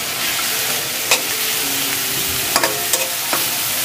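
Garlic, onion and shrimp paste sizzle loudly and steadily in a hot pan, with a few scraping stirs breaking through the constant frying hiss.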